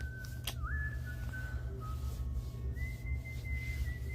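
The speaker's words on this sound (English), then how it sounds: "I was almost asleep when I heard whistling outside." A person whistles a slow, wavering, off-key tune outdoors, thin and sustained over a steady low background rumble.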